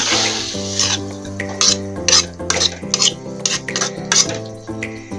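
A spoon stirs pangas fish curry in a cooking pot just after water is added, making close, repeated scraping strokes in an uneven rhythm over a steady tonal hum.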